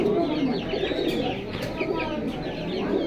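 Pigeons in a breeder's collection cooing steadily, several low throaty burbling calls overlapping close by, with faint voices in the background.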